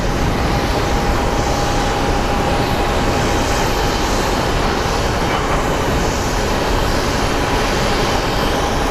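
Sun Country Airlines jet taxiing out at Phoenix Sky Harbor for a flight to Minneapolis, a loud continuous engine rumble with a steady high whine running through it, close by and unbroken, with no voices.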